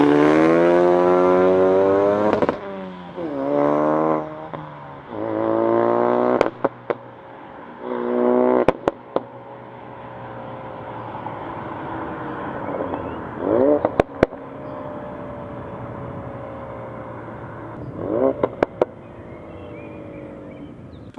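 Revs from a modified Ford Focus RS engine, loud and close, rising and falling in repeated sweeps with sharp crackles and pops in between, alone without talk.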